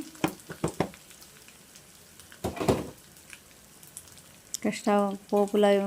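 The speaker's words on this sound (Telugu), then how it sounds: "ఇక్కడ వచ్చేసి నేను జీలకర్ర, ఓమా అండ్ కొద్దిగా కలంజిని వేస్తున్నాను పోపు కోసం." Cumin, ajwain and nigella seeds crackle and sizzle in hot oil for tempering, a few sharp pops early on, then a louder burst of frying; a voice speaks briefly near the end.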